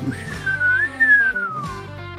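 A person whistles a short wavering tune alone, the pitch rising and then sliding back down over about two seconds, loud and close.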